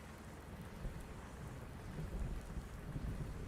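Low rumbling thunder rolling beneath a steady wash of rain, soft and distant, with no voices, from the video game Farming Simulator 19.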